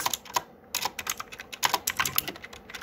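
Typing on a computer keyboard while writing web page code, a quick irregular patter of close key clicks with brief pauses, no talk.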